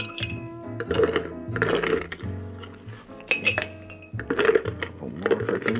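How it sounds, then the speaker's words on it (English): Ice cubes clink and rattle into a glass for an Old Fashioned cocktail, with several close, bright knocks and chimes in quick irregular bursts over about six seconds. "We're going to add some ice and do a bit of stir."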